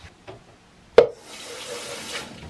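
A measuring cup rinsed under a kitchen tap: a sharp clack of the cup, then the faucet opens into a steady close rush of running water.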